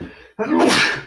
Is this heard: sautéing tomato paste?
no